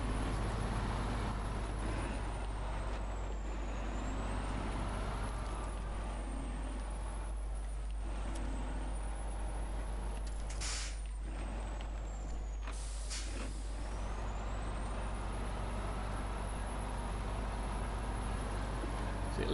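A heavy truck in the video game SnowRunner, a modded Goliath, rumbles with a steady low engine drone and hisses of air brakes and pneumatic bursts, continuous and close with no talking.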